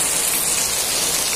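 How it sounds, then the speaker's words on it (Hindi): Heavy rain pours steadily over the Markanda river, a dense, continuous hiss of drops hitting water and surfaces, loud and close throughout with no voices. "और इतनी सुंदर बारिश आ रही है, तेज बारिश है।"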